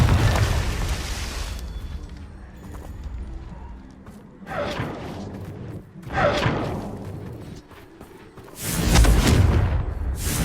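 In the Hogwarts Legacy video game, a Confringo spell sets off booming explosions: several heavy bursts with whooshing tails, separated by quieter rumbling gaps.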